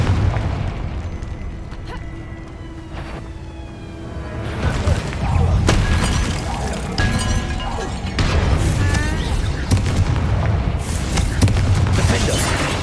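Confringo blasting spells in the Hogwarts Legacy video game: a run of loud booming explosions and crackling bursts over a dense, continuous rumble of game effects, with shouted voices between the blasts.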